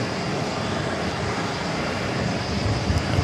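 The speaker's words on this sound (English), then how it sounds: "we got a CRJ rolling down to 4 left" CRJ regional jet rolling down a runway at JFK Airport in New York: a steady, broad jet-engine roar with airy rush, heard continuously at moderate distance.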